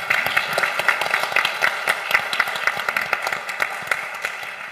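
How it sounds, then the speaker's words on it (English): Conference audience at a funding panel breaks into applause, a moderate, steady patter of many hands clapping with some sharper individual claps, no talk over it. "I think our last woman standing deserves a round of applause."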